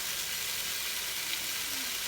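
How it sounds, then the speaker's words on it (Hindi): Potatoes with white cumin roast in a pan, giving a steady, close sizzle with a bright, even hiss and no pauses. "आलू में सफ़ेद ज़ीरा डाल के इसको थोड़ा सा भुनेंगे"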